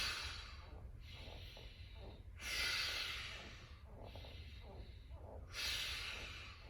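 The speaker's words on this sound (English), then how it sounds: "I'm going to do 10 breaths." Deep, rhythmic breathing during a core workout: repeated forceful breaths through the nose and mouth, close up and steady, with two louder, hissing breaths standing out.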